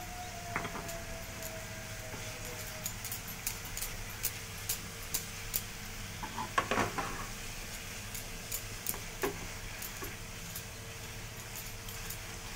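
Rice and paneer seasoned with garam masala are stirred in a pan, giving quiet, repeated metal spatula clinks and scrapes at an irregular rhythm over a low background hum.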